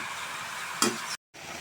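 Noodles frying in a home pan, a steady soft sizzle with a brief louder stir scrape partway, then a short silent gap before the frying resumes.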